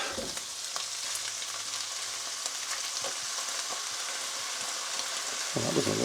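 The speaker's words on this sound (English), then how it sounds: "So our tomatoes is going to go in." Canned tomatoes hit a hot frying pan for a bolognese, producing a steady, close, hissing sizzle that carries on throughout, with a brief clatter of stirring near the end.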